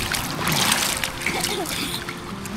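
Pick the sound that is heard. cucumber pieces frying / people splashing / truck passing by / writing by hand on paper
people splashing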